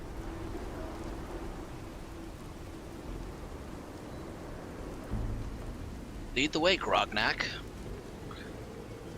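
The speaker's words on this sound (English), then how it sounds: "God, did it have to be a radiation storm?" Rain and rolling thunder from a radiation storm in the video game Fallout 4 form a steady wash of noise with low rumbles, continuing under a short burst of speech near the end.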